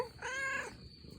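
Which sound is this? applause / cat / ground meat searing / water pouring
cat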